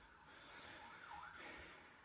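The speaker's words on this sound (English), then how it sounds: "you can hear the distant sound of police cars in the background." Police car sirens wail in the distance, a faint rising and falling tone that sits low behind steady background noise.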